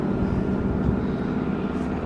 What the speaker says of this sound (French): Ça c'est un hélico de l'armée.